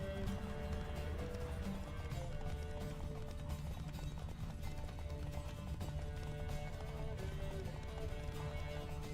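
Horse hooves gallop in a steady, fast clip-clop rhythm while riding in The Witcher 3: Wild Hunt, loud and continuous under a layer of game music, with no voices.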